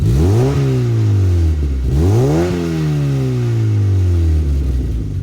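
A Mazda MX-5 NC fitted with a Kakimoto Racing exhaust accelerates hard twice, the engine note climbing and falling loud and close, then holding a strong drone.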